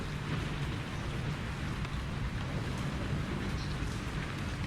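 Steady rain with low rumbling thunder in a dark fantasy tabletop game setting, a continuous, even wash of noise at moderate level with no voices.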